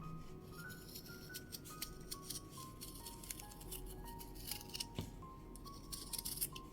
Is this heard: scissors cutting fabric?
yes